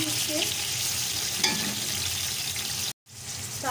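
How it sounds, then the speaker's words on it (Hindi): Roughly chopped tomato fries with browned onions for a vegetable pulao, producing a dense, steady sizzle with stirring that cuts out briefly near the end. "अब मैंने यहाँ पे एक बड़ी अदद टमाटर लिया था जिसे मैंने रफली कट कर लिया था, इसको ऐड करके यहाँ पे थोड़ा कुक करूँगी"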